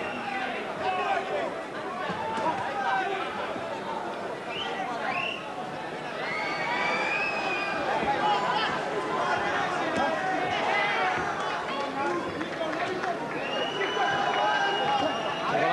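A boxing arena crowd sends up a long, sustained wash of booing and jeering, rising and swelling in waves, heard under a commentator's continuous talk.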